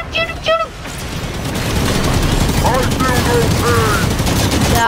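Heavy sustained automatic gunfire from a Halo 5 multiplayer match builds and roars continuously, with voices and alien-like chirps and calls cutting through over the shooting.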